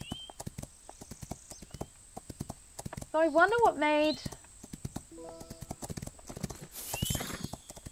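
A horse in the racing game Rival Stars Horse Racing walks around a farm with steady, close clip-clop hoofbeats, briefly whinnying midway, while a person talks over the steps.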